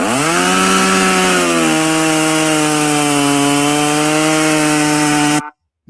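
A revving chainsaw from the Doomslayer in a video game roars loudly and continuously for about five seconds, its pitch dipping and settling before cutting off abruptly.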